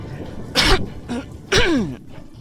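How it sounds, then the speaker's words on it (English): Two sharp, close morning coughs from a person just waking up, each a short harsh burst with a raspy tail, separated by a brief quieter pause. "Pardon me, I'm gonna cough."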